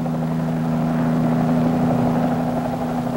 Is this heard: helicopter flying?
yes